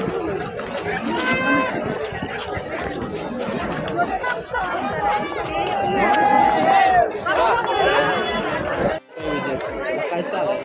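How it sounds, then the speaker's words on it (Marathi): A huge crowd walks across a packed bridge on the way to the Bhima Koregaon memorial on 1 January, a loud, dense wash of chatter and footsteps close around, with a nearby voice talking over it. "किती गर्दी आहे, प्रचंड गर्दी आहे."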